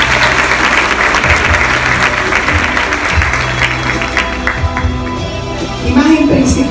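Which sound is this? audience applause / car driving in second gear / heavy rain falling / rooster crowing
audience applause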